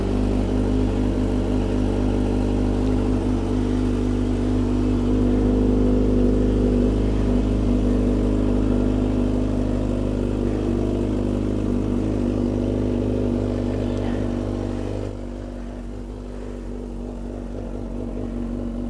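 A motorcycle engine warms up and revs, its steady idle humming loud and close for the whole stretch, with a mild swell in revs before the engine note drops back and settles near the end.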